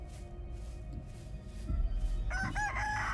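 A chicken in a horror video game clucks and squawks in a few short bursts near the end, preceded by low droning game ambience.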